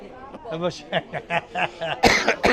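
A voice speaks in short bursts, then a sharp, harsh cough breaks out near the end, close and loud.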